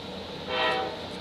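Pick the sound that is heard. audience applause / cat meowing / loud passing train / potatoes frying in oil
loud passing train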